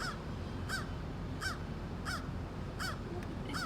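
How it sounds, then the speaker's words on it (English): A crow caws six times at an even, unhurried pace, sharp and fairly distinct over a constant outdoor background hiss. "You can't see this from here, but that's a crow."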